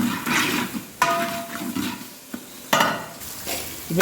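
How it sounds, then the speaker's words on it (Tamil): Ginger, garlic and shallots sautéing in oil for a fish fry koottu, with steady sizzling and frying plus repeated stirring and scraping of a spoon against the pan, loud and close, with no talk. "எண்ணெயில் இந்த பொருட்கள் எல்லாம் நல்லா வதங்கி வந்துட்டு பாருங்க"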